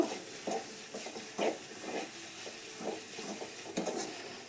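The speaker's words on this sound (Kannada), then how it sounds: "ಇವಾಗ ನಾವು ಇದಕ್ಕೆ ಸ್ವಲ್ಪ ತುಪ್ಪನ ಹಾಕ್ಕೊಳ್ಳೋಣ. ಇದನ್ನು ಹಾಕ್ಬಿಟ್ಟು ಚೆನ್ನಾಗೆ ಮಿಕ್ಸ್ ಮಾಡ್ಕೊಳ್ಬೇಕು" Ghee being stirred into a coconut candy (kobbari mithai) mixture in a pan on the stove: soft rhythmic scraping strokes about twice a second over a faint steady sizzle, close and fairly quiet, no voices.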